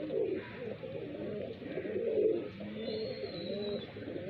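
Highflyer pigeons in Bareilly, Uttar Pradesh, cooing in soft, repeated low throaty phrases close by, with a faint thin whistle-like tone partway through.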